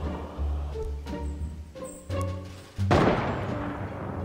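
Gunfire and a cannon blast in a Fortnite battle royale match near the final circle: a run of quick close shots, then a louder heavy boom with a lingering rumble.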